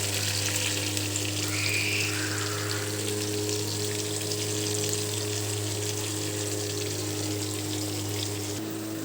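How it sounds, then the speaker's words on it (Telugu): Fish pieces deep frying in hot oil, a continuous dense sizzle with bubbling crackle holding steady throughout, close and fairly loud over a low constant hum. "డీప్ ఫ్రై చేసుకోవచ్చు, కావాలంటే మీరు షాలో ఫ్రై అయినా చేసుకోవచ్చు అండి"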